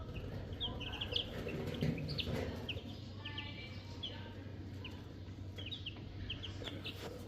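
A brood of roughly 3.5-week-old chicks clucking and peeping, with scattered high chirps over a low steady background hum, close and fairly quiet.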